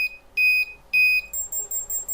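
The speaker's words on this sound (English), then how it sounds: "once you hear this beeping sound, you're free to shoot" Missile lock-on warning in the video game Arma 2: two long, steady electronic tones, then a faster run of short, higher-pitched beeps, clean and alone.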